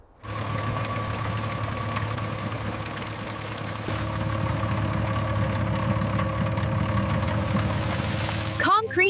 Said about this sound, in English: Concrete mixing.